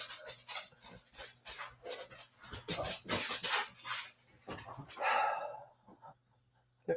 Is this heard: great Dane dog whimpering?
yes